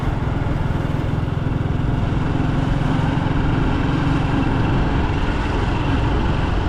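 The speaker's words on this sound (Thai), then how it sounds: "ขี่รถไถนามาเนาะ" A farm walking tractor (two-wheel plough tractor) engine runs loudly and steadily close by, a continuous rough drone that drowns out everything else for the whole stretch.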